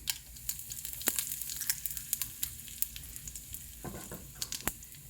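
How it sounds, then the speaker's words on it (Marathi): Asafoetida dropped into hot oil for a jowar puffs chivda gives a steady, close sizzle with scattered crackling pops, running alone without talk. "त्यात मी हिंग घालते आहे"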